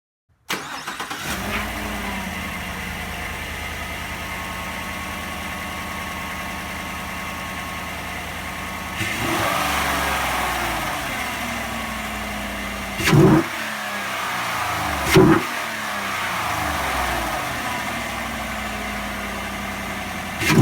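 A 2014 GMC Sierra with a 6.2L V8 and a cold air intake fires up, settles into a steady idle, then gets two sharp revs that rise and fall back, loud and close with no talking.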